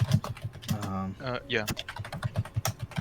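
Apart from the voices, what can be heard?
loud typing on a computer keyboard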